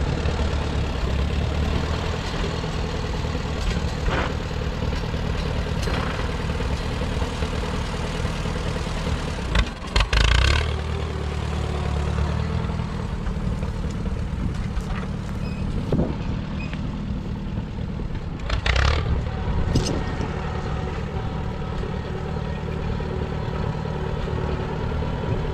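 A 1951 Allis Chalmers tractor engine runs steadily close by, chugging at a low rumble with a few clunks and bursts as it works at pulling out shrubs.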